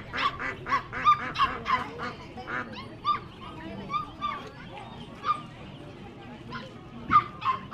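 Dogs bark in repeated sharp bursts at a highland market in northwestern Vietnam, loud and close, mixed with honking fowl calls and voices talking nearby.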